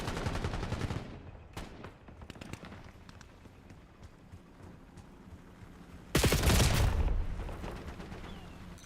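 Video game gunfire crackles in a rapid burst at the start and returns as a loud volley after six seconds, with scattered single shots and game ambience between.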